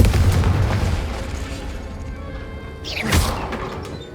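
A Confringo fire spell in the Hogwarts Legacy video game: a rumbling start, then a quiet stretch, then a sharp, loud explosive blast with a rising whoosh near the end.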